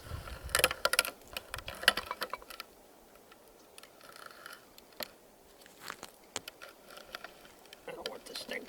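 A bench-mounted hand grinder crushing dry acorns, with irregular crunching, clicking and ratcheting bursts, heaviest at the start and then coming in sparser, closer and fairly loud.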